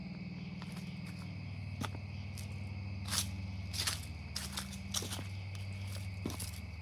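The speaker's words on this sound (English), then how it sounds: "You can hear the wonderful sound of the crickets and stuff here in late September" Steady high cricket chirping fills the background outdoors at night in late September, with a low hum and a few soft scuffs or footsteps nearby.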